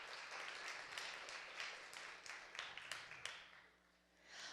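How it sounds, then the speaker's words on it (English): Light, scattered clapping from a recital audience, quiet and uneven with individual claps standing out before it fades near the end. "Give them a round of applause"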